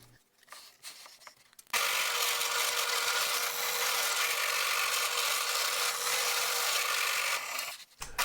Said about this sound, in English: I'm widening the guide holes in the body so that the screws can fit in.